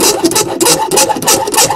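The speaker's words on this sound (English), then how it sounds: "I've only run the file over the edge just very lightly to clean it all up" Metal file rasping lightly over the cut edge of a hole in an RV camper roof, a steady series of quick, close scraping strokes with no talk.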